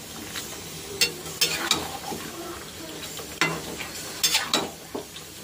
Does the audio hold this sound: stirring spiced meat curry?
yes